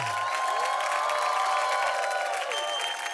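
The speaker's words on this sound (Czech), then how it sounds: "Tvoj potlesk, toto je UFON." Audience applause and cheering at a televised masked singing show, a dense, loud crowd clapping continuously throughout, with a brief tonal musical sting at the start.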